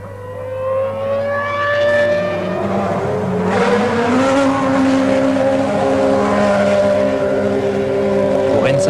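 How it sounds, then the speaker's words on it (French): An Arrows Formula 1 car from 2002 laps the British Grand Prix circuit in qualifying, its high-revving engine whining loud and steady as the pitch climbs and shifts through gears. "À 13h15, Enrique Bernoldi prend la piste"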